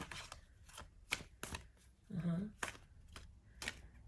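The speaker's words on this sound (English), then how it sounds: "so let's have a look, we'll shuffle" Tarot cards are shuffled in short, crisp bursts of riffling, several separate strokes spaced across the moment, with a voice speaking softly in between.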